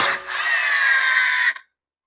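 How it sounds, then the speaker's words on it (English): An impact wrench runs on a 27 mm axle bolt during wheel bearing work on a Volkswagen GTI or Audi A3, a single loud whirring, rattling burst about a second and a half long that cuts off abruptly. "we're gonna move on to removing the bolt that holds the axle. It's a 27 millimeter bolt. I'm gonna have my impact and my sockets."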